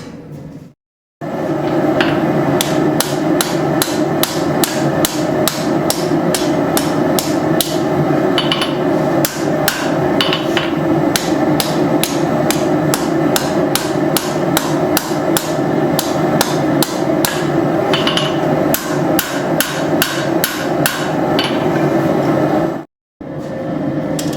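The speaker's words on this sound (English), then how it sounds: "Forging your point. Do some good work out on the horn too." A hammer forges a thin knife blade on an anvil, steady rapid ringing blows repeating loud and close for about twenty seconds with brief pauses at start and end.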